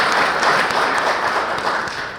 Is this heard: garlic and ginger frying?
no